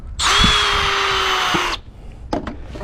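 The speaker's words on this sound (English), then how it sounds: "using a small bit, you don't want to make a large bit, just drill through here" A power drill with a small bit bores a hole for a rear bumper protector on a Ford Explorer, one steady high whine lasting about a second and a half, followed by a few brief knocks.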